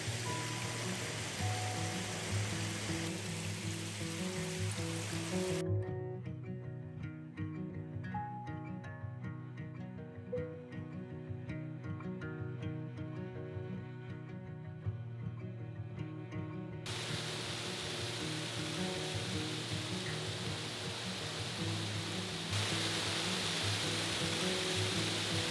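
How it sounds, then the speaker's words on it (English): Steady rushing roar of a waterfall and flowing stream at Jackson Falls, Tennessee, a broad continuous wash of water noise, close and even throughout with no voices. "I've just enjoyed hearing the water and feeling it and just seeing it."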